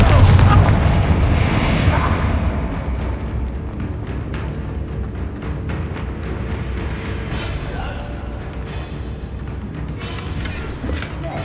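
A Confringo spell exploding in Hogwarts Legacy opens with a loud, deep boom that rumbles and fades into a long, dense crackling roar, with a few sharper pops later on.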